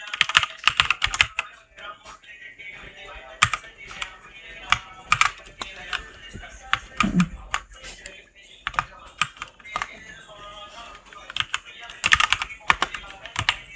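Rapid keyboard typing of a web address while building a PowerPoint slide, heard as bursts of crisp, close key clicks with short pauses between runs and no voices.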